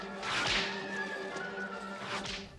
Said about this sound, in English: get some water, get a cloth, and take a car, turn it upside down, and just whip away as much as you like